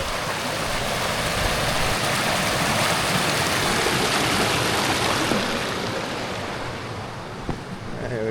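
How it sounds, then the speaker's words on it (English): Creek water rushing at a small waterfall on a backcountry trail in the Gila National Forest, a constant broad splashing wash that stays loud and close throughout, with no talk. "Cross right at the waterfall."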